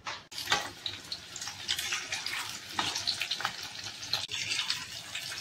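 Marinated food with lemon frying gently on low heat, a soft, uneven crackle and hiss with a few sharper knocks, close by and fairly quiet, no voices.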